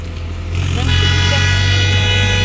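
A motor engine drones and grows louder after a brief quieter start, a steady low rumble with a whining tone as a tractor draws near.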